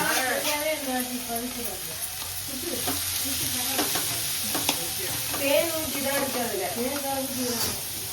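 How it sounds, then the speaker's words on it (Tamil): Chayote sautés in a pan for South Indian chutney with chana dal, urad dal, chillies, tomato, onion and garlic, giving a steady close sizzle with scraping stirs while someone talks over it throughout. "சவ் சவ் போட்டு நல்லா வதக்கணும்."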